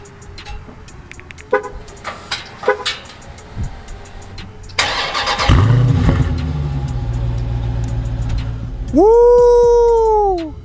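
A brand-new 2021 Dodge Challenger Scat Pack Shaker V8 clicks and cranks, fires up into a loud, rumbling idle, then is revved hard in one rising roar close by.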